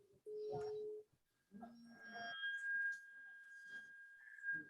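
A telephone is dialed, producing a short series of steady keypad tones at varying pitches, faint and close, with a sustained tone near the end.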